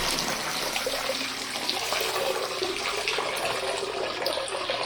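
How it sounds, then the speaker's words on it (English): Splashing water from a pond pump fountain spout raised above the surface of a catfish pond, a steady, dense rushing patter that stays constant throughout and is heard alone, fairly close. "I guess it's like a fountain, and I raised it up above the water"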